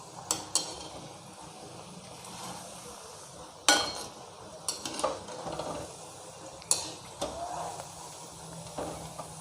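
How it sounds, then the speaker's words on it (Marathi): Jaggery shankarpali deep frying in oil over a low flame, a soft continuous sizzle broken by occasional sharp clinks and scrapes of a utensil against the pan. "मंद आचेवरती मी हे तळून घेते."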